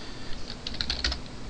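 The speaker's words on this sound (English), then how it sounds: "don't mind this, I just hit the keyboard" A few quick keystrokes on a computer keyboard, clustered in a short burst of light clicks over a low steady room hum, with no talking.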